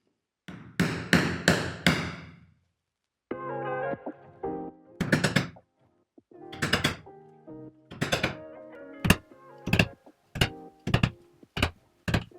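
Holes punched through the leather bottom piece of a bucket bag, heard as a series of sharp, close tool strikes, first a quick cluster, then spaced knocks that speed into rapid evenly paced hits, with no voices.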